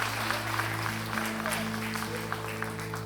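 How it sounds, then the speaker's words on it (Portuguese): A church congregation claps in a steady, dense patter of applause at a sermon on physical and material prosperity, heard at moderate level over a low, steady hum for the full length. "A salva de palmas"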